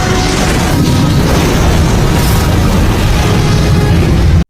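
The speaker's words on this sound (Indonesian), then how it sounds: "sehingga Sebastian tewas dalam ledakan dahsyat yang terjadi di laboratorium itu" A violent laboratory explosion in a film erupts as a loud, continuous roaring blast with deep rumbling and debris, sustained at full intensity before cutting off abruptly.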